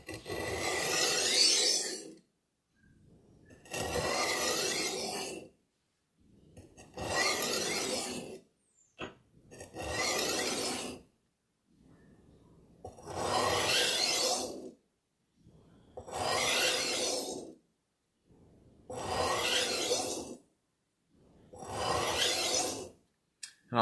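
A knife edge is sharpened on the finer side of a stone, eight or nine slow, even rasping strokes spaced by short pauses, close and fairly quiet with no talk.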